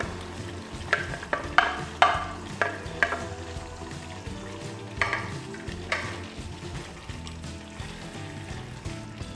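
Vegetables tossed into sizzling chicken jalfrezi, a loud close sizzle with rapid metallic stirring clanks of a spoon against the pan, a busy cluster early and scattered strokes later, with no talking.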